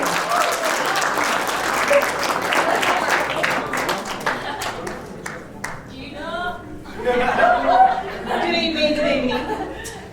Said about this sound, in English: One more big round of applause for everyone that gave a speech tonight.